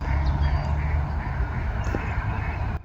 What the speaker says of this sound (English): You hear Dabble squawking